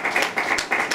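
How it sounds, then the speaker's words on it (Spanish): A church congregation claps together in a burst of applause, the quick hand claps close and loud, with no talking over them. "Podemos darle un aplauso de verdad."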